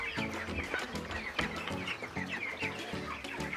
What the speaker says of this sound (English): So we have chicken here for meat.